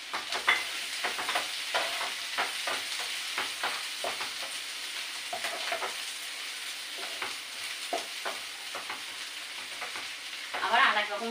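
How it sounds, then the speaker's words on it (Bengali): Onions and garlic frying in a pan for a potol bhorta, with a constant sizzle broken by repeated stirring scrapes. The sound is close throughout and has no speech. "এবারে পেঁয়াজ যেগুলো দিয়ে দিচ্ছি, পেঁয়াজ বেশি করে নিচ্ছি"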